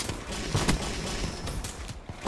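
Shotgun blasts fire in Call of Duty Black Ops Gun Game, several sharp, loud shots spaced through dense game noise with mechanical clicks and no talking.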